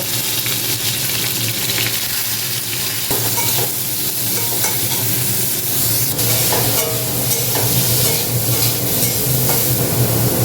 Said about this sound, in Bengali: করলাগুলো একটু ভেজে নেব